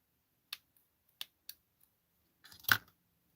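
Scissors snip through fabric trims for a junk journal, a few sharp separate clicks spaced apart, then a slightly longer cluster of rustling cuts ending in one louder snip, close and fairly quiet.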